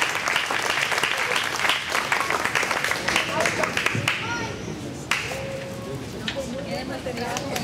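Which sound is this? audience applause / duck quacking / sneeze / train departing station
audience applause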